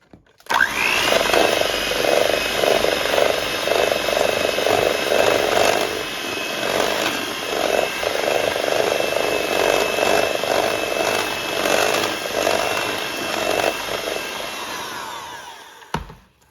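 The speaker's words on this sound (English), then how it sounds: "we're gonna now add the egg and the vanilla extract, and we're gonna mix it again for about a minute or so." An electric mixer beats low-carb, gluten-free cookie dough with added egg and vanilla, a loud, steady motor whine running for about fifteen seconds with slight wobbles before it cuts off.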